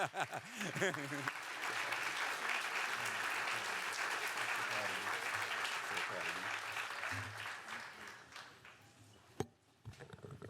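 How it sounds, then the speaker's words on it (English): A standing ovation at a student transfer achievement celebration: a crowd claps steadily for several seconds, with voices mixed in, before the applause fades and a speaker begins talking. "I think she deserves a standing ovation"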